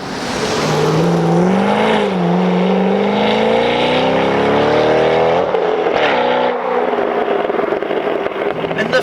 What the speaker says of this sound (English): the Corsa Sport exhaust system when equipped on a C6 Corvette